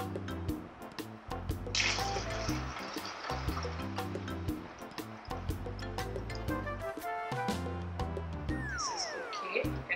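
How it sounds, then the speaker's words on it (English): Water is poured through a funnel into a bottle for a homemade fountain experiment, making a close trickling, gurgling stream with drips and bubbling that runs continuously and shifts slightly in pitch as the bottle fills. "You can use a funnel to carefully put the water inside the bottle."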